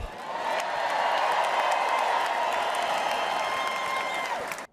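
Sustained applause from a political audience greeting a Texas senator, a dense wash of clapping and crowd noise at steady loudness that cuts off abruptly at the end.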